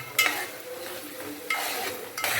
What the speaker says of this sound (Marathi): आता शिजून घ्यायचं वाटण.